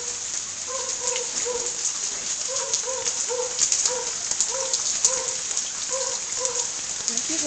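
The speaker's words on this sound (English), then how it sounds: "still raining" Steady rain falls on a flooded yard, a dense, constant hiss of drops hitting water and surfaces, with faint bird chirps repeating in the background.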